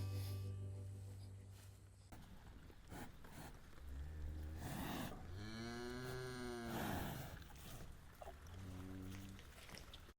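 Holstein dairy cows lowing loudly, several long drawn-out moos with strong harmonic tones following one another over an open farm ambience, no talking.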